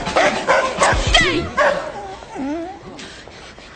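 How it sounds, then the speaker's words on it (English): A dog barks and yips several times, then whimpers and whines in rising and falling tones, close by, with people's voices mixed in over parts of it. "You better get your dog out of here"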